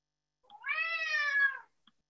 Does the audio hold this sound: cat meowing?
yes